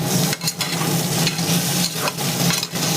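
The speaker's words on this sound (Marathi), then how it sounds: "थोडंसं आलं हे मी चांगलं हलवणार आहे" Ginger being stirred as it fries in a pan while cooking masoor pulao, a steady crackling sizzle with scraping spoon strokes and brief dips, close and alone.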